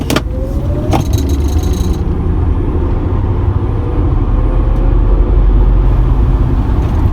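Tesla Model X accelerating up to traffic speed on a road, a steady loud rush of road and wind noise building and holding throughout, with no talking.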